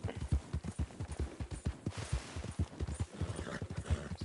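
Hooves clip-clop in a steady, rapid gallop rhythm from a horse in Red Dead Redemption 2, with a brief whinny-like burst partway through, moderately loud against faint background noise.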